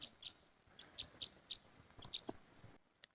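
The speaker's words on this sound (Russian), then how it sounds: "Птицы поют, солнце светит" Small birds chirp on a sunny, frosty winter day among frost-covered dry grass. Short, high, repeated calls come at an irregular pace, soft and slightly distant, over a quiet background.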